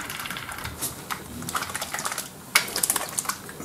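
Small e-liquid bottles shaken by hand to mix the liquid, a quick irregular rattle and clatter of light plastic heard up close, with busier bursts in the second half.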